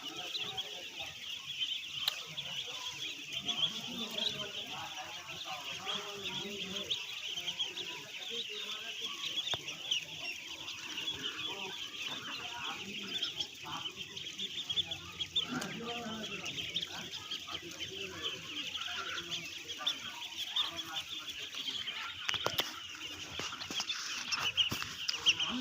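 Ducks, including large ones, on a farm, their calls forming a busy, continuous chatter of clucks and quacks at moderate distance over steady background noise for the whole stretch.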